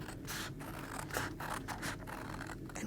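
Scissors cutting a small sliver, like a box notch, from a cardboard takeaway-style box: repeated close, crisp snips and scraping cuts in an uneven rhythm over a low steady background hum.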